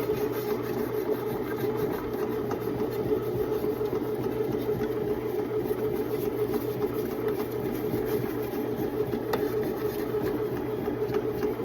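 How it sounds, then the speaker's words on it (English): A bread machine kneading sourdough pizza dough, giving off a steady, even motor hum and a rhythmic churning drone that stays constant throughout with no talking. "So the dough has finished the cycle in the bread machine."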